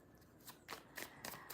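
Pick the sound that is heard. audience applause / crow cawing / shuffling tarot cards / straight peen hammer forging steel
shuffling tarot cards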